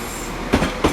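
A British Rail Class 195 diesel unit arrives at Manchester Piccadilly station, a loud steady rumble with two sharp wheel clacks over rail joints close by, and no talking.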